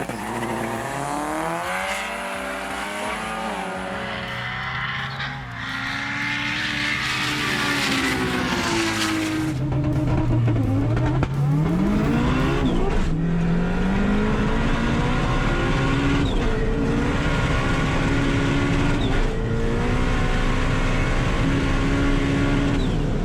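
A front-wheel drive race car engine revs and accelerates hard at a runway drag event, pitch climbing through gear changes with a loud, sustained roar.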